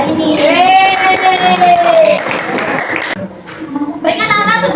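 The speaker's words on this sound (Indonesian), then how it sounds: "tepuk tangan untuk 2 kelompok kita hari ini" Students in a classroom applaud two student groups, their clapping mixed with loud children's voices cheering and calling out together, briefly dipping before rising again.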